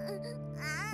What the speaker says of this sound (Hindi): बच्चे की रोने की आवाज नहीं आ रही?